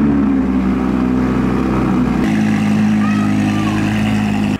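An Audi R8 sports car pulls out with a loud, steady engine drone close by, its pitch shifting partway through as it moves off, with no one talking over it.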